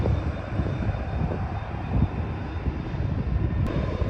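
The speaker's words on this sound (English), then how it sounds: "There's the 737." A Boeing 737 airliner at Schiphol airport gives off a steady, broad engine roar at a distance, continuous and fairly loud, with no voices over it.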